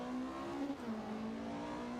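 A rally car engine in the Richard Burns Rally driving simulator hums at a steady pitch, dipping briefly as the revs drop. Faint and continuous, with no talk.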